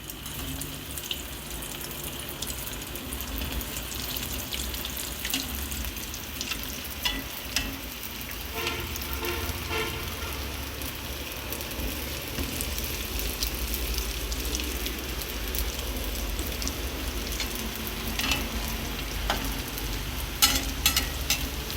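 Fish cutlets coated in fresh bread crumbs frying in hot oil on a medium flame, a steady close bubbling sizzle with scattered crackles lasting throughout, no talking.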